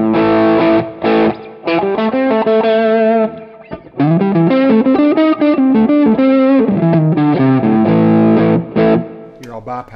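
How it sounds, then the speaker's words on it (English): Heavily distorted electric guitar riffs through a high-gain Recto amp model with drive turned up, thick sustained chords and short bursts, loud and saturated throughout with brief gaps. "let me turn the drive up on the American for just a minute"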